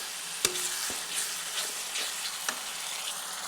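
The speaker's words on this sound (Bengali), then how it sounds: "তো এরপর এগুলি ভালো করে মিশিয়ে নিচ্ছি কিছুক্ষণ।" Tomato and yogurt masala stirred in a pan over low heat, a steady bright sizzle with spatula clacks and scrapes against the metal, close and continuous with no voices.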